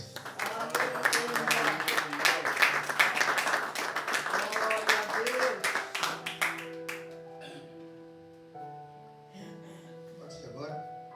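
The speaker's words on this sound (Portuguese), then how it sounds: "Vamos aplaudir Jesus, queridos." Congregation clapping during a church service, dense rhythmic claps mixed with singing and voices for several seconds, then thinning out as sustained organ-like tones carry on.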